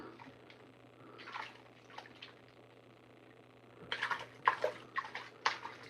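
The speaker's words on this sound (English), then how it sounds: "Give a couple little fast splashes there just to make sure." Water splashed over a sluice mat during gold panning, soft sloshes early then a burst of several quick, louder splashes toward the end.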